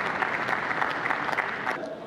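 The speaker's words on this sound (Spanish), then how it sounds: "Desde acá un saludo, un aplauso para el hermano Fidel Castro." A crowd at a public gathering applauds Fidel Castro, steady dense clapping from many hands, close and loud, for about two seconds.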